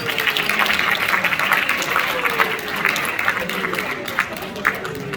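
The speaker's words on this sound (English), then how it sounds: "Can we give them a round of applause again, please?" An audience at an Africa Day event claps in a steady, fairly dense round of applause that holds at an even level throughout, with crowd noise and a voice briefly audible underneath.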